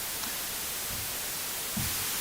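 Steady broadband pink noise from an audio mixer's oscillator, a continuous even hiss held at constant level with faint low thumps underneath.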